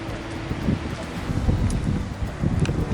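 Strong wind gusts buffet the microphone at Byron Glacier in Alaska, a steady loud roar with rustling surges throughout, close and unbroken.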